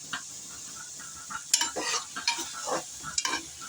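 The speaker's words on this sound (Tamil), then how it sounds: "இது வந்து கொஞ்சம் நல்லா ஆயில் விட்டு நல்லா வதக்கிக்கணும்" Chopped mushrooms sautéing in oil in a pan, a soft sizzle broken by repeated scraping stirs and utensil clinks against the pan, close and moderately quiet, without speech.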